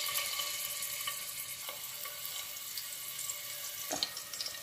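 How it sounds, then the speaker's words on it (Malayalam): Chopped garlic sizzling in hot oil in a pan, a steady hiss and crackle with a few sharper pops and clinks, close and alone without talk. "ഇനി ഒരു പാൻ ചൂടാക്കി അതിലേക്ക് എണ്ണ ഒഴിച്ചു കൊടുക്കാം. ചോപ്പ് ചെയ്ത 3 വെളുത്തുള്ളി ഇട്ട് കൊടുക്കാം."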